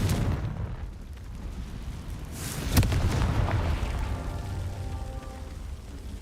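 A Confringo blasting spell in Hogwarts Legacy goes off as a single sharp explosive crack midway, over steady low rumbling ambience, then fades into continuing background noise.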